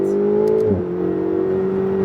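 A car engine hums steadily, its pitch dipping briefly during a shift to fourth gear before rising again as it accelerates, close up.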